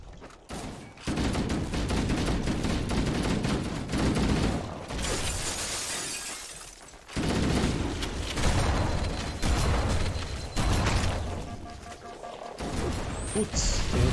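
Gunfire and explosive bursts from combat in the video game Halo: Combat Evolved, including a shock shot, coming as loud, dense volleys that break off briefly between bursts, with a voice talking at times.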